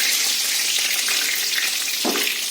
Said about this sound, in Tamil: பச்சை மிளகாயும் கறிப்புளியும் போட்டேன்